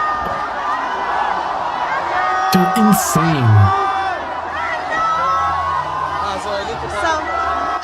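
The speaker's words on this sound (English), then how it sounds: "Look at this. They're all cheering." A crowd at an International Quds Day rally cheers and whoops in a continuous busy roar, with someone talking over it close by and a brief louder burst of shouting in the middle.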